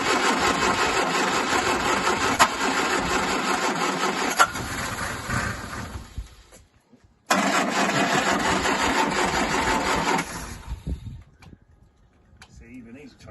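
An old Singer Vogue car engine runs unevenly, is switched off for a moment of silence, then restarts and runs again before fading out, with people talking over it.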